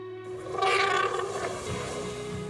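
An elephant gives one loud, brassy trumpeting call that swells quickly and then drags on as a rough, fading blare for about two seconds. No one speaks over it.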